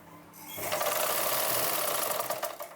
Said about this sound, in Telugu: అన్నీ కరెక్ట్ ఉన్నాయా లేదా చూసుకుంటూ కుట్టు అయితే వేసుకోవాలి